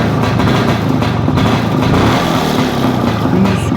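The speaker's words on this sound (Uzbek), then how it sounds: "Hozir yurg'izib beraman, svetlarini bir ko'rishingiz mumkin, mototsikl ovozlarini eshitishingiz mumkin." Motorcycle engine running steadily at close range in Fergana, a continuous low throbbing hum with no clear revving, loud and constant throughout.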